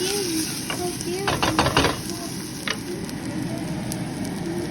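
Ginger garlic paste fries with a steady sizzle in a pan for a bottle gourd and sesame curry, while a spoon stirs and scrapes against the pan in a quick run of strokes. No one speaks.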